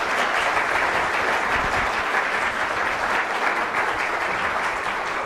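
Sustained applause from an audience at the close of a public talk on astronomy and cosmology, a dense, even clapping that stays loud and steady throughout with no voices over it.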